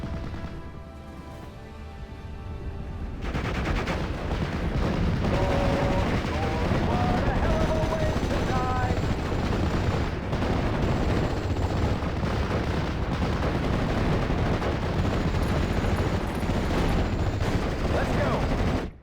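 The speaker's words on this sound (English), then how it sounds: "let's bring in some proper artillery" Artillery and gunfire in the WWII strategy game Steel Division Normandy 44, Normandy campaign, starting quiet before a loud, dense barrage of booms and crackling shots rolls on continuously.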